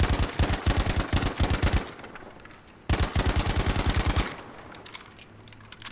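Tap-fired gunshots on a shooting lane in Battlefield V: two strings of rapid, evenly spaced loud shots, each about one to two seconds long, separated by a quieter gap, with no talking.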